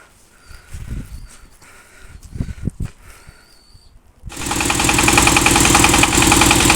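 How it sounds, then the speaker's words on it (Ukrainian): A motor tractor engine starts after about four seconds of quiet with scattered small knocks. It then runs loud and steady close by, a rough, even mechanical drone, and nobody speaks. "Так, ось завів ще мототрактор."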